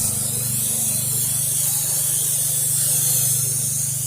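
A pressure washer with a downstream nozzle soaks the siding of a house at low pressure, producing a steady, close, loud hissing spray over a low pump drone, with no talk.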